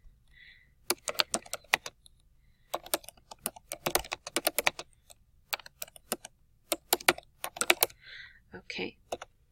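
Rapid bursts of typing on a computer keyboard, close and crisp, with short pauses between runs of keystrokes while entering a name in a message field.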